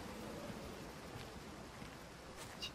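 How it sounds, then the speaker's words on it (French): A distant small waterfall in the game Everybody's Gone to the Rapture gives a faint, steady rushing wash, soft and continuous with no voices over it. "Petite cascade loin."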